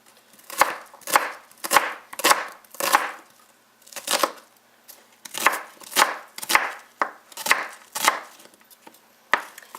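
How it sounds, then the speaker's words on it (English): Onions being quick-chopped with a knife on a cutting board, a series of sharp, close, evenly spaced thuds in short bursts with brief pauses. "I'm just going to quick chop those up"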